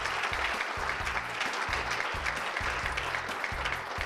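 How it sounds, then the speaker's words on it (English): An audience applauds at a chamber of commerce annual awards gala, steady hand clapping filling the room at moderate level for a few seconds, with no talk over it. "Give yourselves a nice round of applause."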